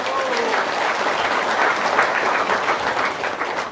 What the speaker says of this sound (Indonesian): Tepuk tangannya dong.